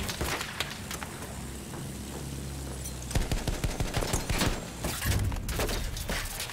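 Ground troops in Battlefield 1 fire upward in rattling bursts, starting with scattered shots over a steady engine drone and then turning into heavier, denser machine-gun volleys in the second half.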